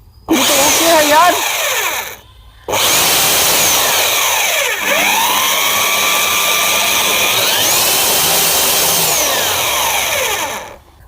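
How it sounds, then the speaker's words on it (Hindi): A drill machine found in a scrap shop whines loudly up close, stopping briefly and starting again. Its pitch sweeps up and down as the speed changes, then it runs steady before winding down. "ये ड्रिल मशीन मुझे कबार के अंदर मिल जाएगी"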